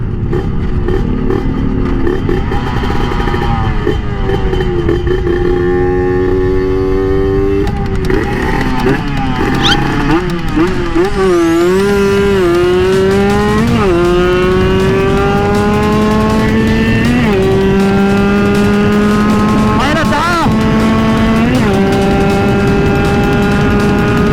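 A Serpico motorcycle with a freshly rebuilt engine revs while being ridden in fifth gear, its loud engine note rising and falling in pitch over and over, close and continuous.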